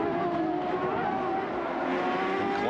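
A 1997 CART Indy car brakes hard at Mid-Ohio after a run of about 190 mph down the backstretch. The engine roars loudly and steadily, its pitch dropping slightly, while a commentator talks over it.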